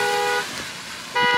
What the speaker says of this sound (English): This dude is honking.